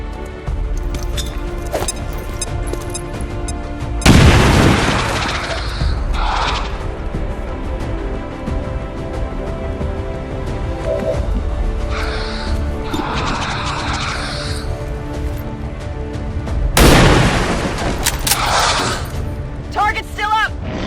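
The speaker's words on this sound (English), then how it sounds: "Throwing grenade!" Grenade explosions in a combat video game: two loud, broad blasts about twelve seconds apart, each with a short roaring tail, set among game noise, with people talking throughout.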